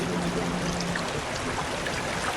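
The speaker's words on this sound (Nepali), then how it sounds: "साथीहरू पानी साउन्ड सुन्नु न" A steady rushing water stream flows close by at a picnic spot in Sundarijal, a continuous broadband wash heard alone without talk.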